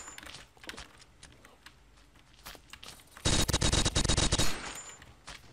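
An MG42 machine gun firing in the Blockade 3D video game: a rapid, loud sustained burst of roughly a second and a half, preceded by scattered lighter clicks and distant shots.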